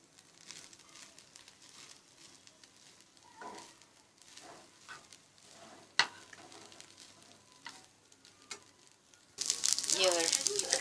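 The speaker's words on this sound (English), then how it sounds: "So now I am going to add the fried eggs and the potatoes to this. And then I am going to mix it." Fried eggs and potatoes stirred into rice in a hot pan, with soft sizzling and scraping throughout and a louder burst of frying crackle near the end; a voice speaks faintly underneath.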